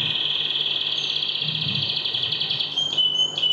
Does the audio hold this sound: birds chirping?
yes